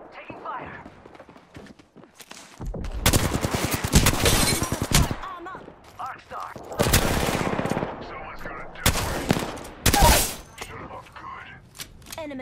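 Gunfire in the Apex Legends video game comes in several loud automatic bursts of a few seconds each, separated by quieter gaps. A voice speaks between the bursts.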